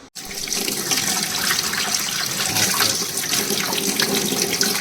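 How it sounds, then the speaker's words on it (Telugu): Tap water runs continuously into a sink while ridge gourds are rinsed under it, a steady splashing rush heard close up with no voices. "ఇప్పుడు వీటిని ఒకసారి వాష్ చేసుకుందాం"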